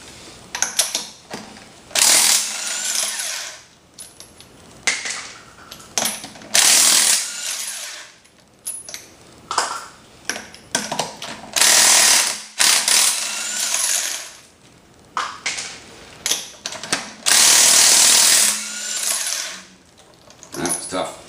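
A ratchet works at taking a wheel off in a garage, sounding as bursts of fast metallic clicking and clattering with short pauses between, loud and close, with no speech.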